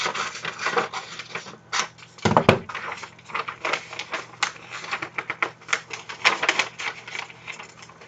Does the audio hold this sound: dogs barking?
no